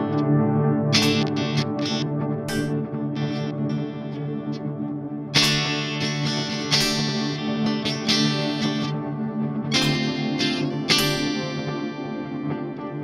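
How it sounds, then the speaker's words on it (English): Electric guitar run through a Walrus Audio Fable granular multi-tap reverb pedal into another, notes smearing into shimmering, stuttering repeats and long washy reverb tails, played alone with several sharp strums. "using this granular multi-tap reverb into another granular multi-tap reverb"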